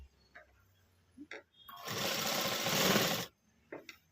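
A sewing machine stitches a hemming strip in one steady whirring run of under two seconds, with brief voice sounds before and after it.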